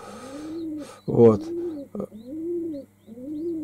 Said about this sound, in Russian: У меня голуби тут воркуют.